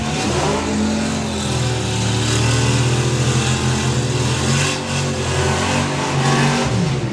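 Four-cylinder drag racing cars, including an Anglia and a 100E, rev hard and accelerate down the strip at a nostalgia drag racing meet, a loud sustained engine roar rising in pitch with no voices.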